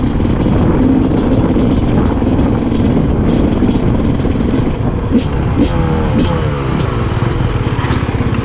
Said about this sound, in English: I don't know if this is an actual enduro bike or not because it's so rapid